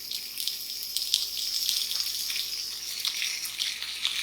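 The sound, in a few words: homemade bacon frying in a small pan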